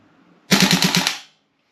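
A short full-auto burst from a Tokyo Marui AKM gas blowback airsoft rifle fitted with an enhanced recoil spring: about six rapid, loud, close cracks in under a second, with a brief gassy tail afterward.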